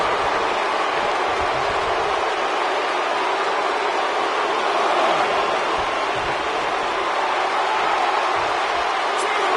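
A raucous wrestling crowd in a Philadelphia arena, a dense, steady roar of many voices that holds throughout, loud and unbroken, with commentary voices over it.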